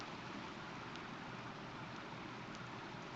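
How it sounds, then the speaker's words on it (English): Steady rain falls in Stockton just after a hailstorm, a constant even hiss of moderate loudness with no voices. "Just rain now."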